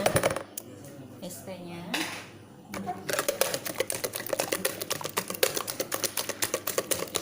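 Banana cake batter for steamed sponge cake stirred briefly with a utensil in a bowl, giving rapid, close clinking and scraping taps in a steady busy rhythm after a short quieter start.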